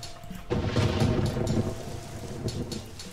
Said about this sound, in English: Let's use the rain ability and trees will grow faster.